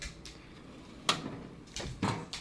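Toolbox drawer used for storing fountain pen parts, opened or closed with a few short sliding knocks and clacks, fairly quiet, over a faint room background.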